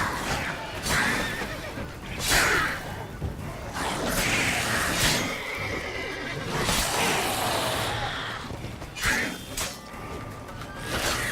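Horse neighing and whinnying repeatedly in the video game Witcher 3, several loud bursts spread across the clip over a busy game soundscape with hoof clip-clop.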